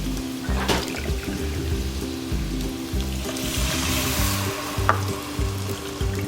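Onion and garlic sizzle and crackle steadily in a hot pan with occasional stirring clinks, while soft background music plays underneath.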